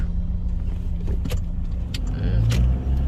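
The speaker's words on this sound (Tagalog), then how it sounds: "Ayan guys, traffic." Road traffic on a long drive toward Townsville is heard from inside a car as a steady low engine and tyre hum, with faint clicks and rattles in the cabin.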